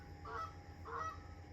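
Geese honk twice in quick succession, two clear calls standing out over a low steady background rumble, fairly close and alone with no talking.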